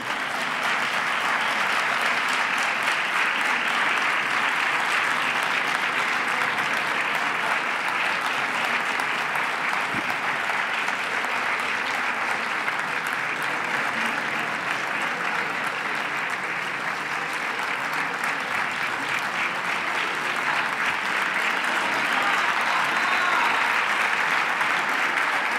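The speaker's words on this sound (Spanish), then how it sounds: "Un aplauso ya para ellos." Theatre audience in Spain applauding honored guests at a Moors and Christians festival event, a long, sustained wash of clapping from a full house that stays dense and even for about twenty-five seconds.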